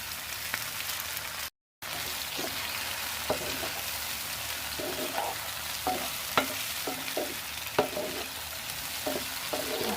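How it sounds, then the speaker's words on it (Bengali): Potato pieces fry in hot oil with onion, chili and cumin, giving a close, steady sizzle broken by scraping stirring strokes. "এখন আলুটাকে পেঁয়াজের সঙ্গে, পেঁয়াজ, মরিচ এবং জিরার যে ফোড়নটা ছিল তার সঙ্গে ভালো করে ভেজে নিতে হবে।"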